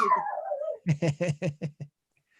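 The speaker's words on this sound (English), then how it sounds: "I think the barking dog" A dog at an animal shelter lets out a drawn-out whine that slides downward, then six sharp barks in quick succession, fairly close and loud, before falling quiet.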